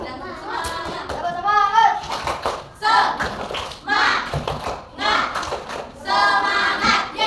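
Indonesian schoolchildren in a Grade 4 class clap together in short rhythmic bursts, mixed with lively kid voices chanting and talking between the claps.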